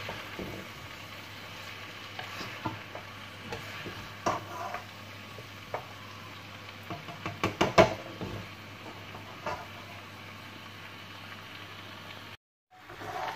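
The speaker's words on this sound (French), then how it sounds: "On continue à touiller" A stir-fry is stirred in a pan for a Chinese dish: a quiet, steady sizzle with irregular scraping and knocking of the utensil, a cluster of louder clacks midway, and no talking.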